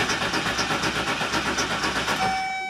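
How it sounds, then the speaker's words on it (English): A Chevy van engine cranks without catching, the starter churning in a fast, even rhythm for nearly three seconds, close and loud, then winding down with a fading whine. "And this is all it does, it just cranks."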